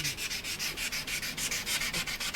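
Steady rhythmic sanding, a coarse rasping scrape repeating back and forth in even strokes, close and continuous.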